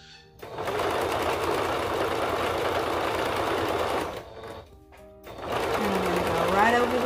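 A sewing machine runs in a fast, loud continuous whir while backstitching a seam on a crop top, stops briefly for about a second, then starts stitching again.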